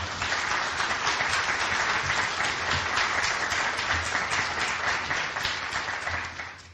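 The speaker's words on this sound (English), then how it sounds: "Everybody should applaud her big time" An audience applauds author Ellen McCracken at a symposium, sustained dense clapping from a full room at even loudness, tapering slightly at the end.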